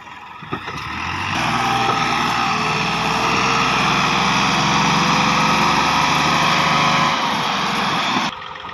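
A heavy tractor engine roars steadily at high revs for several seconds while straining uphill under a load, a loud labored drone that swells in and then cuts off.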